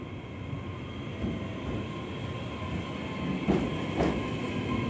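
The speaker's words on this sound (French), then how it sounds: "C'est tellement plus silencieux que les rames diesel." Electric train running on the JR Hakodate line between Sapporo and Fukagawa, a quiet steady rolling rumble with a few faint wheel clicks near the end, heard alone without talk.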